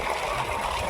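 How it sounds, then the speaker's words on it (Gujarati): Irrigation water runs through a farm field channel, a steady close gurgling trickle with no break over a brief moment. "એવી રીતના આ પાણી જાય સીધું ધોરીએ"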